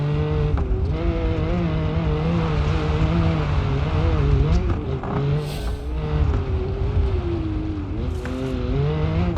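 The Arata's engine drones steadily in BeamNG.drive, its pitch rising and falling with throttle over a loud, continuous rumble, and a brief tire squeal or scrape surfaces near the middle.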